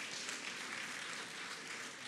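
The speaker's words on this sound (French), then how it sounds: "On applaudit pour le Président." An audience in Abidjan applauds French President Emmanuel Macron at a traditional chieftaincy ceremony, a steady and dense round of clapping with no talk over it.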